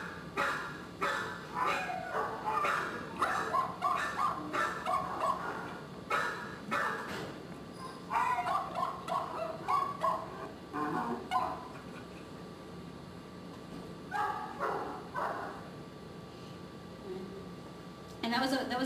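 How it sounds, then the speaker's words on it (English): A dog gives repeated high-pitched, strained barks and yelps in uneven bursts, fairly close, with pauses between clusters. "it's that high-pitched stress bark because it's not that rapid-fire alarm bark."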